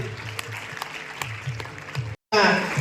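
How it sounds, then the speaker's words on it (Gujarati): Brief clapping from an audience at a student felicitation ceremony, steady and moderate, mixed with a speaking voice before a short dropout and a louder final burst. "તાળીઓ મિત્રો આપણે પાડતા રહીએ"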